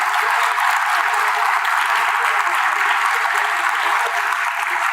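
A dense, even round of audience applause for the young organizers of an event, steady and continuous crowd clapping without a break.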